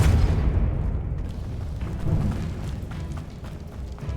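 A Depulso force spell cast in Hogwarts Legacy, heard as a loud, deep booming blast that fills the opening second and trails off into a rumbling wash of magical and ambient game sound.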